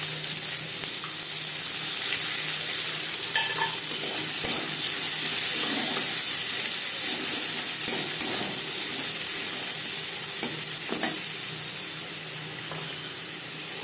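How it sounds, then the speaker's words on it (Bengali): Chopped onion sizzles in hot oil left over from frying chitol fish, a steady broad hiss with occasional stirring scrapes and clinks, close and continuous throughout. "মাছ ভেজে নেওয়া তেলে দিয়ে দেব পেঁয়াজ কুচি।"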